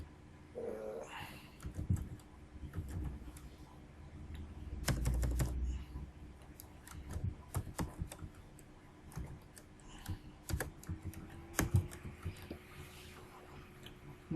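Typing on a computer keyboard, irregular clusters of close key clicks with pauses between them, plus a few heavier thumps and no voices.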